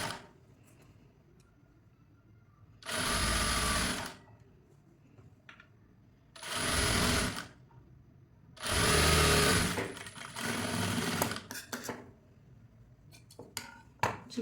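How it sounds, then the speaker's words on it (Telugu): A sewing machine stitching a straight seam on a blouse runs in three separate loud bursts of whirring, each a second or two long, with quiet pauses and faint handling noises between them. "ఇలా స్ట్రైట్గా కుట్టేసుకుంటూ వెళ్ళిపోవాలి"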